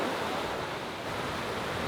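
Surf washes steadily onto a bay beach as a broad, even hiss, close and constant without distinct breaks or any talking.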